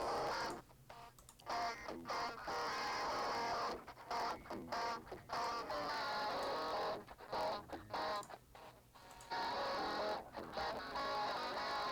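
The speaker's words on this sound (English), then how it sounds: "turn on uLaw and we get an interesting change in the tone." Sound processed through the Airwindows uLaw plugin, giving a gritty, lo-fi digital tone to choppy bursts of noisy, bright material with a steady high whine and abrupt gaps, loud throughout, no talking.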